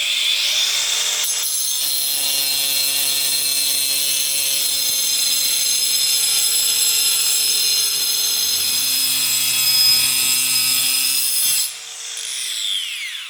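A power cutter slices through aluminium plate for a boat build, a loud, steady high whine sustained for about ten seconds before spinning down, with no voices.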